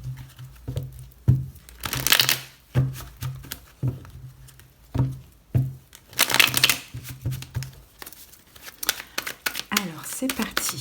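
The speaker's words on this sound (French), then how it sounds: "on pose les 5 cartes" Tarot cards laid out one by one on a table, giving soft, irregular slaps and papery crinkles in short bursts, with someone speaking French between and over the card sounds.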